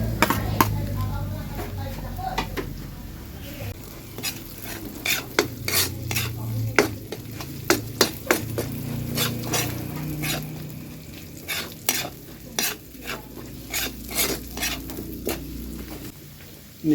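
Onions sauté in a pan while a utensil stirs them, producing sharp, irregular scraping knocks over a soft steady sizzle, close and fairly loud, with no speech.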